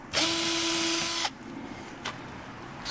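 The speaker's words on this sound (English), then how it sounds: "I'm going to drill one of them" A power drill boring a screw hole while mounting a fitting in a solar shed, giving a single loud, steady whine of about a second that stops abruptly, followed by faint handling knocks.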